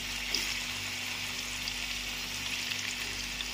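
Hot cooking oil, already overheated, sizzles steadily in a frying pan before fries, sausage and eggs go in, a continuous close hiss with no talk.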